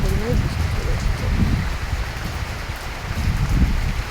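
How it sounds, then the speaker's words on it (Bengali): Heavy rain pouring down steadily, a dense continuous hiss close by with no letup from start to finish. "এদিকে দেখো আবার প্রচণ্ড পরিমাণে বৃষ্টি চলে এসেছে"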